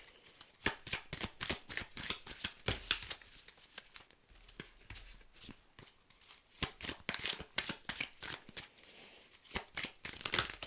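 Tarot cards shuffled and drawn by hand: a steady, close riffling and flicking of cards with rapid papery slaps in dense bursts throughout, no talk.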